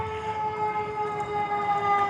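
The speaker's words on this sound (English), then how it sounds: "I can hear the sirens coming up now." Fire engine sirens wail steadily in the distance, a continuous rising-and-holding tone over low rumbling background noise, growing slightly louder as they approach.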